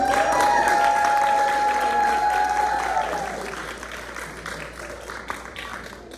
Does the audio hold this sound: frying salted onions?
no